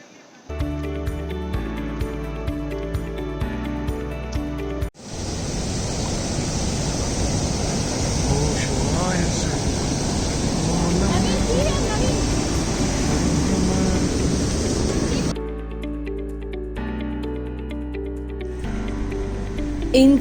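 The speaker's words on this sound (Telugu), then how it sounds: "సో బ్యాక్గ్రౌండ్లో మీకు వినిపిస్తుంది వాటర్ ఫాల్స్" Steady broadband rush of waterfalls along the Umngot river at Dawki, Meghalaya, holding loud and continuous for about ten seconds between quieter musical passages.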